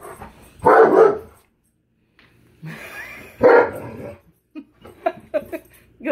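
A large Malamute barks in a few loud, deep bursts separated by pauses, followed by quicker, shorter yips and huffs, close by.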